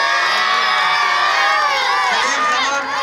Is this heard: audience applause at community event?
yes